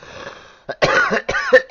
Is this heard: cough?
yes